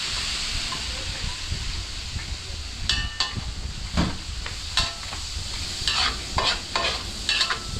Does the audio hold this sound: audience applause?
no